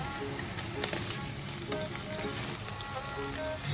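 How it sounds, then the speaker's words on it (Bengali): Chopped onion, tomato and ginger-garlic paste fry in a pan for chicken bhuna masala, a dense, even, close sizzle with light stirring throughout. "পেঁয়াজটা ভাজা ভাজা হয়ে এলেই তাতে দিয়ে দিলাম কাটা টমেটো ও আদা রসুন বাটার পেস্ট"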